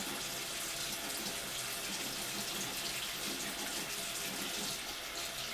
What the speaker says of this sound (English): I'm going to just run water on my hand